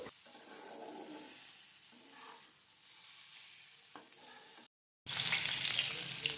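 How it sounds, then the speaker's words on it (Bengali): Steady crackling sizzle of Maggi instant noodles frying in a pan with occasional stirring, a brief cut, then a louder, brighter burst of sizzling. "এই যে ওকে একটু ম্যাগি ফ্রাই করে দিচ্ছি"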